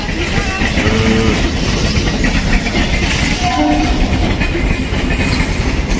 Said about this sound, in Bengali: এই হচ্ছে গেদে শিয়ালদা লোকাল এখন দু নম্বর প্ল্যাটফর্মে ঢুকছে মেল লাইনে